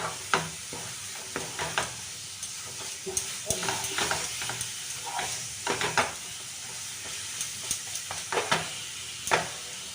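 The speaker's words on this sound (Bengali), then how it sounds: "গ্যাস বন্ধ করে দিয়ে তাও নাড়াচাড়া করে নিলাম" A mango sweet mixture is stirred in a wok after the gas is switched off, with repeated close scraping and knocking of a spoon against the pan over a low steady sizzle throughout.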